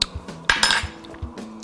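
A small spoon clinks and scrapes against a pot of Portuguese kale and potato soup, with several sharp metallic taps spread unevenly over a quiet background, close by, with no talking.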